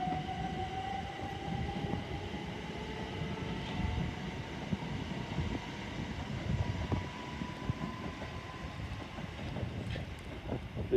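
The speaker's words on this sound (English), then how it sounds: "The 377 service to East Croydon has also departed alongside the Pendolino." A Class 377 electric train pulls out of Watford Junction beside a Pendolino. A steady rolling rumble and rising motor whine carry on without a break, loud and close, with some wind noise on the microphone.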